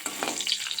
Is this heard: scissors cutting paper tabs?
no